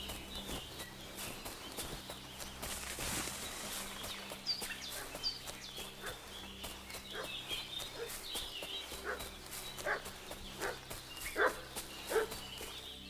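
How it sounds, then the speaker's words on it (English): A dog barks repeatedly in the medieval game Kingdom Come Deliverance II, sharp separate yelps and woofs at a moderate distance over quiet outdoor ambience with faint birdsong, growing more frequent toward the end. "What's that dog making such a fuss about?"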